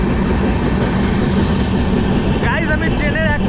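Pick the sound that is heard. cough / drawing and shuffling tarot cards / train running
train running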